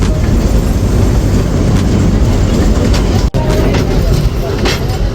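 A steady, loud rolling rumble comes from the Matheran–Neral hill railway toy train as it nears Neral, continuous and close, with a brief break midway and talk over it.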